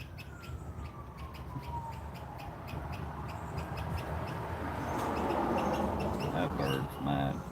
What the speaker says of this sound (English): That bird's mad.